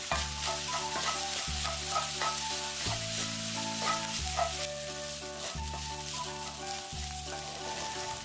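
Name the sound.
stir-frying Spam with onion and garlic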